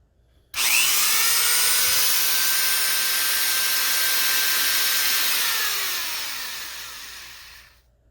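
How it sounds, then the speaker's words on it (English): A repaired Dremel rotary tool is switched on and whines at a high, steady pitch for several seconds, then winds down smoothly as its shaft coasts to a stop, with no talk over it. "what we should be getting right now is a full revolution, you know, spins, just like any other Dremel that should be working fine."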